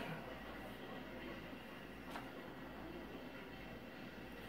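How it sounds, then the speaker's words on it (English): Steady rumble of a train running in the Railroad Tycoon II video game, a continuous low rolling drone with faint hiss throughout and no clear voices. "we got a train on"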